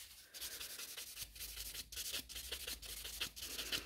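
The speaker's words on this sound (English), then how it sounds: "I'm also filing it down from underneath to smooth it out" Steady rasping of a nail file working the underside of an acrylic nail, with quick back-and-forth strokes, close and continuous, and no talking.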